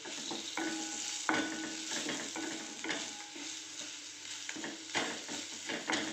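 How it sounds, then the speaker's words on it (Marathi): Turmeric frying in oil over a low flame, a continuous soft sizzle broken by irregular spatula taps and scrapes in the pan. "हळद आपली चांगली फ्राय झालेली आहे"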